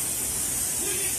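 A can of non-stick cooking spray sends a short, steady, close hiss of aerosol into a small bowl, a single continuous burst lasting about a second.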